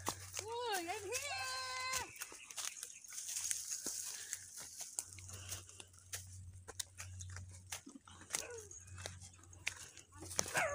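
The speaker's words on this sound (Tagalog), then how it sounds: "Natatakot talaga ako dito sa aso." A dog that keeps following a person gives a few short, sharp barks and yelps nearby, scattered between near-constant talking.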